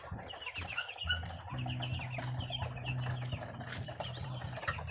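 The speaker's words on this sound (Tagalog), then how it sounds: "Ang dami ng mga manok guys oh." Many chickens cluck and chatter together in a busy flock, with occasional wing flaps and a low steady hum underneath.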